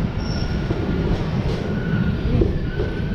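Diva–Sawantwadi passenger train arriving at Sawantwadi station, a loud steady rumble of rolling wagons with faint metallic wheel squeals over the top.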